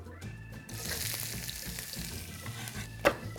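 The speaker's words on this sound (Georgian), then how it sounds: "ოდნავ მოიშუშოს ხახვი" Onion fries in a pan with a soft, continuous sizzle and some stirring scrapes, fairly quiet and close, broken by a sharp clink near the end; nobody talks.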